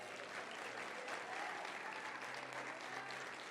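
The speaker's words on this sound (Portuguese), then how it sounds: "Uma salva de palmas." A church congregation breaks into sustained applause after a prayer, a dense, even wash of many hands clapping together, steady and fairly distant, with a faint low hum underneath.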